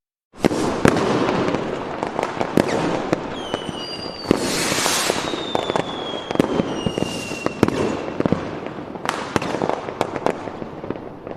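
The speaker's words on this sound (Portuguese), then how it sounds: "Por esse motivo vamos comemorar com uma salva de fogos." A loud fireworks salute crackles and booms continuously, dense sharp bangs layered over whistling rockets that rise and fall, with no voices.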